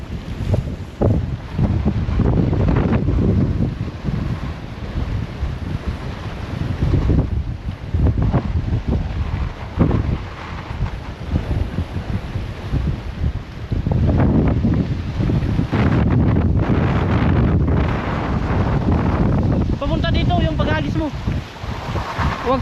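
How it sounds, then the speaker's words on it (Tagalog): Strong wind roars continuously against the microphone on a boat at sea, a loud, dense buffeting rush with gusty swells and occasional waves, plus faint voices in the background. "Sobrang lakas kasi ng hangin."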